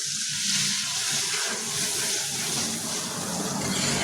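Water goes into a pan of frying turmeric and ginger-garlic paste, making a dense, rushing hiss and bubbling that stays fairly even and close throughout, with no voices.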